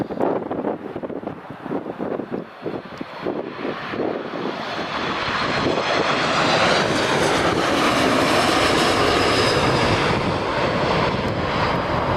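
A Corendon Airlines Boeing 737 MAX arrives at Newcastle Airport, its engine roar building from a distant rumble to a loud, sustained drone mixed with wind buffeting the microphone.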